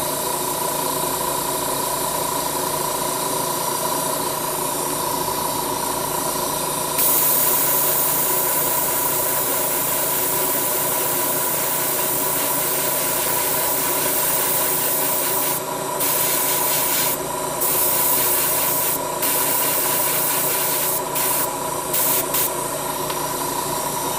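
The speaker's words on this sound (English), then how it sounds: "I could probably spray chrome on this one as well, because all I need to do is spray the inside, not the outside." Chrome spray paint hisses onto the inside of Gundam 1/144 HG model kit parts in a loud, continuous close-up stream that barely pauses over about twenty-four seconds.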